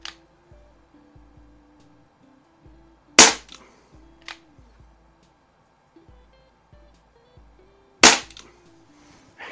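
Umarex Brodax .44 super magnum CO2 revolver firing BBs at silhouette targets: two sharp, loud pops about five seconds apart, with small clicks and handling noises between them.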